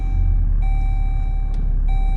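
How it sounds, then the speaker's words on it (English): A Jeep's warning chime beeps just after the engine is started, sounding as steady sustained tones that cut off and restart twice over a low idling rumble. "It's still beeping."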